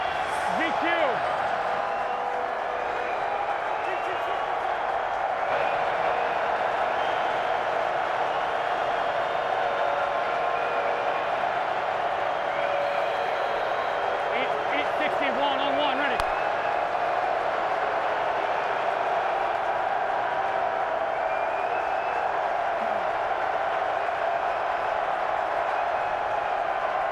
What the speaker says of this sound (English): as you can hear, this crowd is rocking already